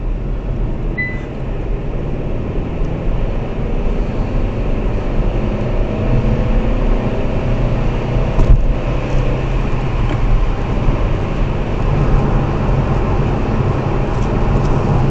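Interior road noise from a car travelling at about 28 mph on a 30 mph road, a steady low rumble and hum running throughout with no talking.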